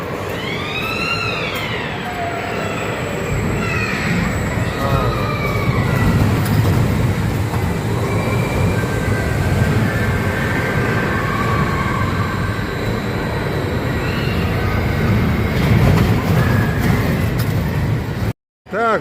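Passenger train rumbling along steadily for the whole stretch, with a continuous broadband roar and some squealing tones, heard from nearby or on board, with faint voices in the background.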